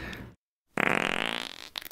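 A long, loud cartoon fart from an animation follows a brief voice and a moment of silence, ending in a sputtering trail.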